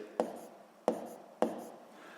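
Pen writing by hand on paper, three quick taps or strokes at roughly even intervals, close and quiet, with no talk over them.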